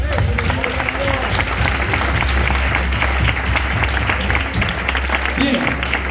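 A church congregation gives loud, steady applause during a service, dense clapping from a crowd with a low hum underneath and a voice surfacing near the end.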